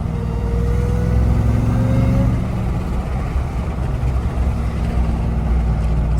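A Ram TRX truck with a JMB intake drives along under light throttle, giving a loud, steady, close engine drone with a thin rising whine. It holds a continuous rumble throughout, and no one speaks.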